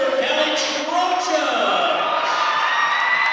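A big crowd at a Caldwell County vs Webster County high school boys basketball game sends up a steady, loud roar of cheering and whooping inside the gym, unbroken for the whole moment.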